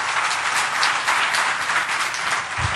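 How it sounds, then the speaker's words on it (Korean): Steady, loud applause from a church congregation at a Sunday worship service, dense clapping filling the whole stretch without a break. "우리 힘찬 박수로 한번 말씀드립니다."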